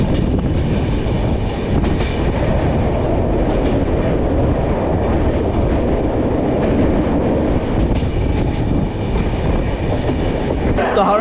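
Howrah–Jodhpur Superfast Express train running on rails, a steady, loud rumble of wheels and carriages with faint rhythmic clatter throughout, no talk.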